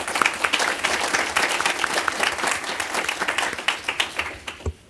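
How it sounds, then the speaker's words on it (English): Audience applause at a Villa Rica city event honoring a longtime high school football and basketball coach, a dense patter of many hands clapping steadily near and loud, tapering with a few last claps at the end. "Would y'all give him a round of applause?"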